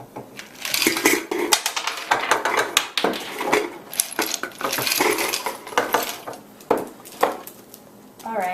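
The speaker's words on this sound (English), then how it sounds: "we're going to place some ice into the bottom of the bag" Ice cubes dropped into the bottom of a bag lining a coffee can, a busy run of hard clattering and clinking knocks, close and fairly loud, with short pauses between handfuls.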